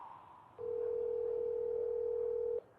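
A telephone dial tone on a recorded call to a car dealership, one steady unbroken tone lasting about two seconds, clear and fairly loud, starting and stopping abruptly with no speech.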